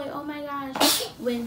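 A single sharp sneeze bursts out loudly and close, sandwiched between bits of a woman's speech.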